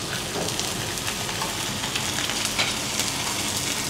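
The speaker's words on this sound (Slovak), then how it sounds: "Mäso si poupekáme z každej strany" Beef steak sears on a hot grill with oil, giving a dense, steady sizzle and crackle with small spitting pops throughout, close and even in level, no voices.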